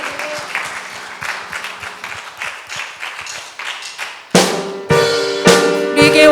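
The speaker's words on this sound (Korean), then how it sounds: "살아계신 하나님께 박수로 영광 올려드립시다." A church congregation claps during a Sunday worship service, a sparse, rhythmic patter of hands that is soon overtaken by loud instrumental music, with the clapping continuing underneath.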